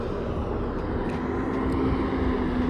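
Loud, steady aircraft engine roar, a constant broadband drone with a low hum running through it and no breaks, heard close by on the ground with no voices.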